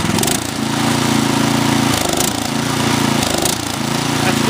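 A Troy-Bilt 2620 snow blower's engine runs close and loud, a steady pulsing chug under test that dips slightly in load twice, with no talk over it.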